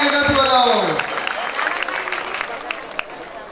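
Audience applause at a Ramkatha religious gathering, a burst of clapping that starts right after a voice speaks over it and fades within a few seconds.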